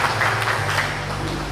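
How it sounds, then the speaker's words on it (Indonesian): Short burst of audience applause at a motivational business event, dense clapping throughout with a low hum underneath. "Tepuk tangan untuk para 9 crown yang lain Bapak Ibu."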